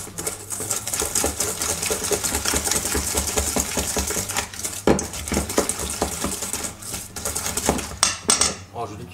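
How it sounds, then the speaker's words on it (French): A hand whisk beats a small quantity of galette des rois filling in a bowl, making a fast, steady run of rhythmic metallic clicks and scrapes that carries on close and loud for several seconds. "Je le fais au fouet."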